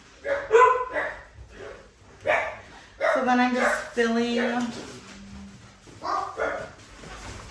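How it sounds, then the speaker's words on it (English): Several household dogs bark in short bursts close by, some yips and a whimper mixed in, under and between someone talking while she plants pepper seeds indoors. "sorry guys about the dogs"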